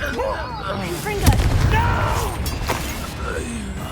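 A Confringo blasting spell in the game Hogwarts Legacy goes off as two sharp explosive booms a little over a second apart. They sound over a low rumbling bed of battle noise, with brief voice-like sounds mixed in.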